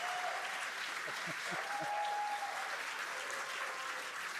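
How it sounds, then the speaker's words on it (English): Distant crowd cheering and applause during a Starship test flight, a steady broadband roar lasting throughout, fairly faint and washed out, with faint voices mixed in. "They're cheering."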